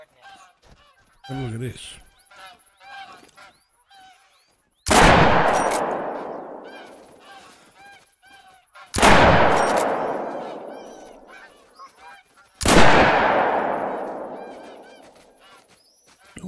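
Geese in the hunting game theHunter: Call of the Wild honk and call faintly while someone speaks, then three loud gunshots crack nearby, each trailing off in a long echoing decay.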